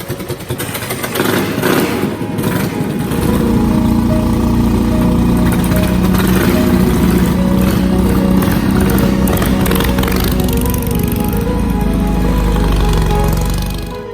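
A loud motorcycle engine idles steadily with a low, continuous rumble, close by and without talk.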